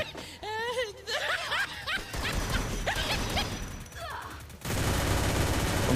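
Gunfire in the mobile shooter game Free Fire, volleys of shots with mechanical game sounds, mixed with players' laughter and talk, turning into a sustained loud burst near the end.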